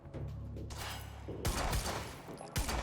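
Rapid bursts of gunfire crack out in the Quantum Break video game, loud and close, several shots stacked in quick volleys with short gaps between them.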